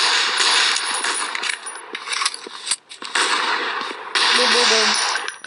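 Bursts of gunfire from a survival video game crackle in sharp, rapid volleys over a constant dense background noise, loud and close.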